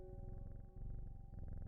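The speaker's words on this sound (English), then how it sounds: "Listen to that pussy purr." A cat in the Strange Horticulture video game gives a short, low, rumbling purr with even, rapid pulses, heard alone and close.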